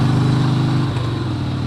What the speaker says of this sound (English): but when you got an old 2-cylinder Harley